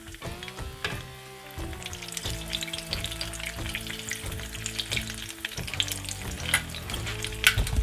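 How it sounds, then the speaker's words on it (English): Hot oil crackles and sizzles steadily up close as shredded beef rolled tacos fry, with occasional scraping and stirring noises breaking through the frying. "Y'all hear that sizzling?"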